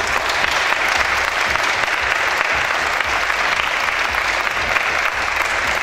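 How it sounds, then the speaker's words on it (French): An audience at a beauty pageant results ceremony claps in a loud, dense, sustained round of applause that holds even throughout, with no voices on top. "Applaudissements, merci à vous."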